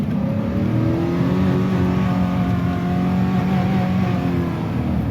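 A car's engine drones and revs steadily up close as the driver tries to drift on rain-soaked roads, a continuous loud motor tone with no talking.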